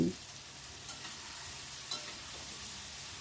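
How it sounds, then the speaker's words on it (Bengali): Eggplant pieces fry in a pan over a high gas flame while being stirred, giving a steady close sizzle with a couple of brief scraping stirs. "অনবরত নাড়তে হবে এই সময় গ্যাসের ফ্লেমটা কিন্তু হাইতেই রেখেছি"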